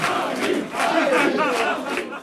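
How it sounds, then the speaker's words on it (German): A large crowd at a CDU election-victory celebration cheering and shouting loudly in a dense, sustained roar with rising whoops, close and continuous. "Der Jubel war groß bei der CDU"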